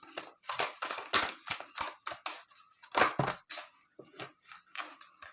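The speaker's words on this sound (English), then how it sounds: "We're going to keep shuffling." A rapid series of crisp, papery slaps and riffles from tarot cards being shuffled, close and fairly loud, coming in irregular bursts with brief pauses between.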